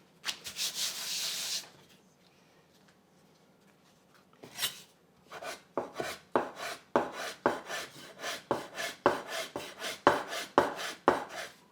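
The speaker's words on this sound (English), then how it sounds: "you can either guide your knife through to separate or just use your hands" Knife chopping through fresh egg pasta dough on a board into noodles, a run of sharp, close, evenly paced cuts following a brief rubbing scrape and a pause.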